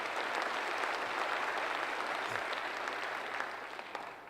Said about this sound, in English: Give you all a round of applause.